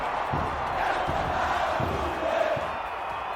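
Flamengo supporters chant together in a stadium in support of coach Paulo Sousa, a dense, continuous roar of voices with rhythmic swells and a few sharp beats underneath.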